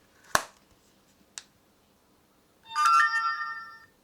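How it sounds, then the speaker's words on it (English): A cheap Temu gadget plays an old-phone-style ringtone, a short, bright trilling ring lasting about a second. Two sharp clicks from handling the device come just before it, and no one speaks. "That sounds like an old phone."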